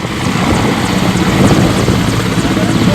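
A rescue helicopter hovers low over the flooded Betwa river, its rotor a loud, steady, close throbbing drone that does not let up.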